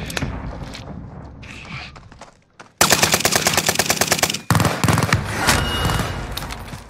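Video game gunfire in a first-person shooter, bursts of rapid automatic fire, one sustained loud rattling burst then another close volley, with shorter shots and battle noise around them.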